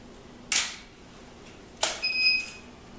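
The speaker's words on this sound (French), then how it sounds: "Quand vous entendez les pip, ça veut dire que le flash, ici, c'est recyclé." Two sharp mechanical clicks a second apart, the second followed by a faint high electronic beep as a camera flash recycles, quiet and close.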